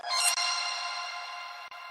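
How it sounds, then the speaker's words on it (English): A bright, sustained vintage church organ chord with stacked tones rising through octaves swells in, then holds steady and slowly fades. "it was an organ. It was like a vintage church organ."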